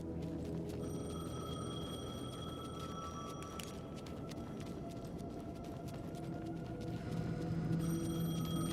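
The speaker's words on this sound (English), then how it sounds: "The payphone was ringing." A payphone ringing in the video game Alan Wake II, a steady electronic ring sustained across the whole stretch with a low rumbling ambience underneath, no voices.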